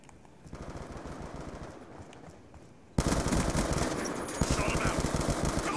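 Automatic gunfire bursts in Black Ops 2 multiplayer on PC, rapid rattling shots that grow sharply louder and denser halfway through, close and continuous.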